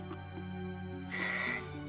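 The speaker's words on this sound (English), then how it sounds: "After I say hello to the sheep real quick." A big sheep bleats in a shop simulator video game, a single drawn-out bleat near the end of a short stretch of steady game background tones, fairly close and moderately loud.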